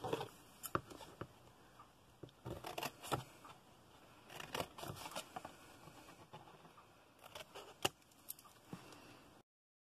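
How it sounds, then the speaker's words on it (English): Paper gift box tabs being snipped with scissors, a quiet run of small crisp cuts and rustles arriving in irregular bursts, close and faint, with no talking. "then we can cut the tabs just like we did for the other piece"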